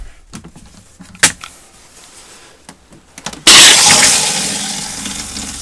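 An RV toilet flushes with pink antifreeze during winterizing, preceded by a few quiet clicks and knocks, then a sudden loud rushing gush that stays strong and slowly eases.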